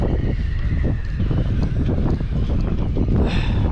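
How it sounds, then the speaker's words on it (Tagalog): Strong wind at sea buffets the microphone during a stop with a broken jet ski, producing a heavy, continuous low rumble and gusty roar that stays loud throughout. "Malakas ang hangin"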